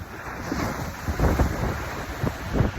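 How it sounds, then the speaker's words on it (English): Sea waves wash onto a fast-tide shore during a cold winter dip, a steady broadband roar with rolling surges, while wind buffets the microphone throughout. "Oh yeah, there's the waves there."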